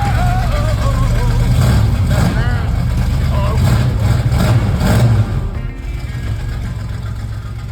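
A loud 1966 Ford Fairlane GTA with a 390 V8 and automatic transmission, a former California race car, rumbles steadily close by with a deep low roar, then drops slightly in level near the end; talk may be mixed in.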